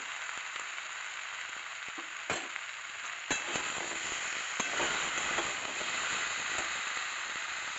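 Curry of drumstick stems and lentil fritters frying in a pan, a constant bright sizzle with scattered scraping clicks and knocks of a spoon stirring through it.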